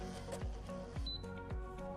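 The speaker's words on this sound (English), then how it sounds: "The value that's on the mic will then transfer over to the printer." A Mitutoyo DP-1 VA data logger printer prints a reading with a close, steady mechanical chatter: three sharp periodic clunks of the print head over a continuous whirring, humming drive, plus a brief high beep-like tone in the middle.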